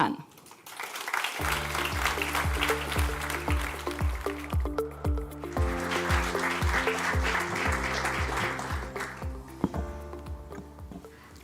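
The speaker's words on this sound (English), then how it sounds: "Let us welcome with warm applause" Warm applause from a conference audience welcoming a minister to the stage at a European tourism forum, steady and full over a sustained musical fanfare with a pulsing beat.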